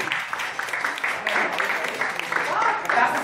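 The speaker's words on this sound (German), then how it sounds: "jetzt dürfen Sie klatschen." Audience applause following a magic trick in which a plastic egg with a cloth becomes a real egg, a dense steady clapping from a room crowd lasting a few seconds with voices mixed in.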